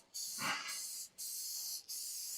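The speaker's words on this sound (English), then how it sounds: "Now we're going to take our pan. We're going to spray it" Cooking spray hisses onto a baking pan for blueberry baked goods in three close, steady bursts separated by short pauses, with no talking.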